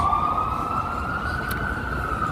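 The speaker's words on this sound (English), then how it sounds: "this is a siren. New York is full of sirens." Emergency vehicle siren wailing on a busy New York street, a sustained, steadily rising tone over a constant traffic rumble at moderate distance.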